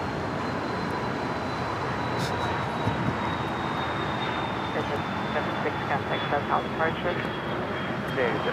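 An airliner's engines roar steadily as it takes off from runway 25 right at LAX, heard from a distance with a faint high whine and a voice talking over it.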